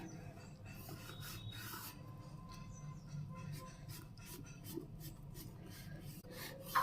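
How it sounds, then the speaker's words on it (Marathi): Knife cutting freshly made, still-hot sesame chikki into pieces, giving a faint, steady rasping scrape with scattered light clicks and taps throughout. "गरम असतानाच तुम्हाला वड्या पाडण्यासाठी असं कापून घ्यायची"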